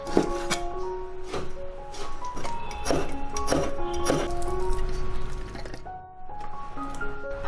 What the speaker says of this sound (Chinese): 五花肉切去皮，切成小块。